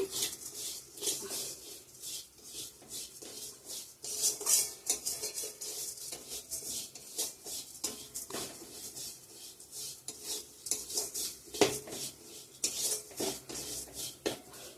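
Dry rustling and scraping as lentils are stirred around in a pan, with a soft intermittent sizzle and occasional metal clinks, fairly quiet and close.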